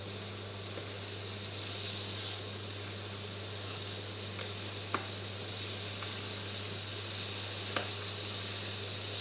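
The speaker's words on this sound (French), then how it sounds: "Là, je dispose mes pommes qu'on va faire dorer." Steady close sizzle of apples browning in a frying pan, an even continuous crackle with a few faint clicks and no talk.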